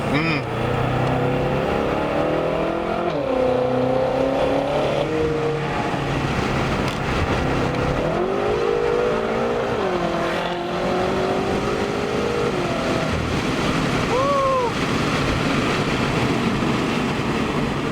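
A BMW F10 M5 sports car engine revs and accelerates hard, its pitch climbing in repeated sweeps, with people talking over the roar.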